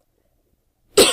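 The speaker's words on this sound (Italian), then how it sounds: "se non crepo mentre tossisco" One sharp, loud cough bursts out alone at the end after a stretch of silence.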